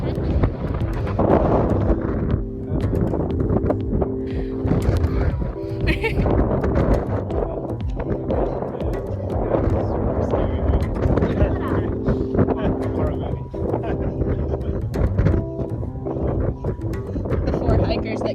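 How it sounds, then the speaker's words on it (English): Strong wind gusting across Mount Ibuki in Japan, buffeting the microphone with a loud, continuous roar for the whole stretch while people talk underneath. "The wind is really strong."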